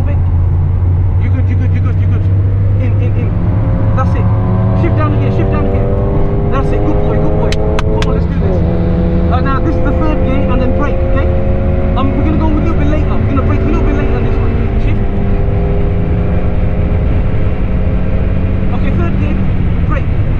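A Toyota Supra or Mazda MX5 on a Silverstone track day, engine revving hard at full throttle with steady, loud rising and falling pitch sweeps close to the microphone, a voice heard intermittently over it.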